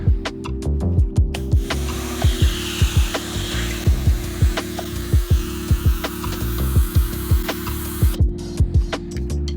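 A Karcher pressure washer fitted with an Eco Booster nozzle blasts dirty concrete: a loud, steady motor drone under a broad water hiss, pulsing in a regular rhythm close by.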